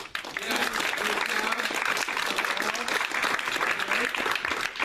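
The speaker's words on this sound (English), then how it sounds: "Let's all give each other a warm round of applause." Continuous applause from an audience gathered at a meeting, a dense, steady wash of clapping hands that fills the room from start to finish.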